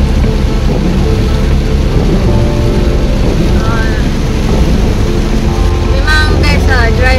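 Heavy rain drums steadily and densely across the whole clip in Langkawi, loud and close, with a low rumbling hum underneath.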